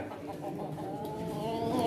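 Rooster at a pigeon and poultry auction, heard as a continuous jumble of clucking and crowing-like calls with steady low bustle around it, fairly close and moderately loud throughout.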